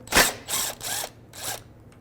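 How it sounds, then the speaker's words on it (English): Ratchet with a 10mm socket backing out the top AC condenser line bolt on a 2013-2018 Toyota RAV4: four quick clicking ratchet strokes in a steady rhythm, close up and alone. "Now with a 10mm socket, I'm going to take the top AC condenser line off, take that bolt out"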